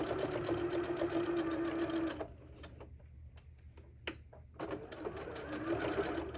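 Sewing machine stitching black thread through pet screen mesh, a steady fast mechanical whir for two seconds, a pause with clicks while backstitching, then stitching resumes.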